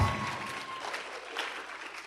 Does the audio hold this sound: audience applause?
yes